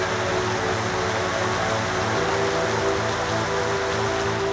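Heavy monsoon rain over Odisha, a dense, unbroken hiss of downpour at constant loudness, with a low rhythmic pulse running beneath it.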